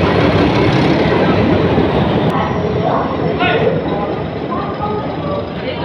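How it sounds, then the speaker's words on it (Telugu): Ratnachal Express arriving at a station platform, a loud, steady rumble and roar of the train rolling in that fills the whole stretch without letting up. "అదిగోండి వచ్చేసింది మన రత్నాచల్ ఎక్స్ప్రెస్"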